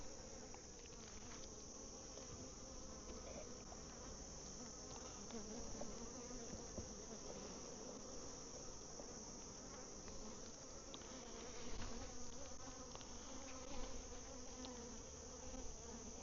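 A dense, steady buzz of many honeybees fills a bee yard while frames of capped comb are handled, holding evenly throughout with slight swells near the end and no talk.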